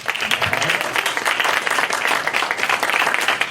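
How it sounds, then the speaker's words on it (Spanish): An audience at a book presentation at a university breaks into continuous applause, dense steady clapping throughout the short stretch, close and moderately loud, with no clear speech over it. "quisiera pedirles que recibamos a la mesa con muy fuerte aplauso"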